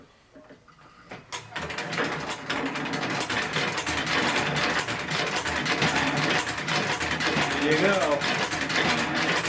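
Vintage Singer 3-1 treadle sewing machine stitching, its wheels and gears whirring and clattering steadily and loudly for most of the stretch after a quiet start, with a brief spoken comment near the beginning.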